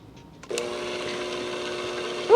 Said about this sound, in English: A good old kitchen blender.